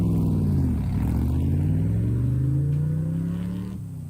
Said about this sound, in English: I have never loved the sound of a car revving as much as I did just now.